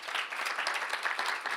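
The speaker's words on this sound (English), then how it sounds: "A big round of applause for our panelists here." Audience applause for panelists at the close of a software conference panel on nullability: a steady, dense wash of many hands clapping, moderately close, with no pauses across its length.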